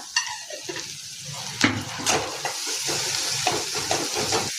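Ginger-garlic paste fries in a pan, a steady close sizzle broken by repeated scraping and clinking of a spoon stirring against the metal, with no talking.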